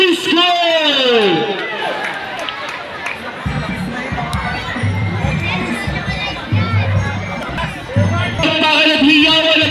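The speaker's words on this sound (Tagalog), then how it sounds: "mas malakas ang sigawan na magmumula sa Batya Elementary School" Elementary school students shouting and cheering at a district athletic meet in Bocaue, a loud sustained crowd roar with a voice over a microphone talking across it.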